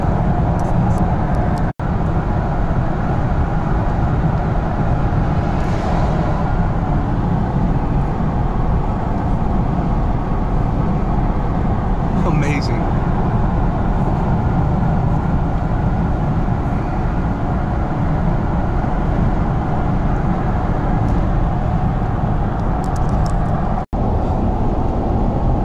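Steady road and engine rumble from inside a car driving along a road through Oregon, continuous and unbroken throughout.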